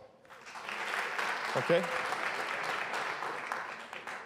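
Audience applause at a German stand-up comedy show, a sustained wash of clapping from a crowd with a brief spoken word from the stage in the middle.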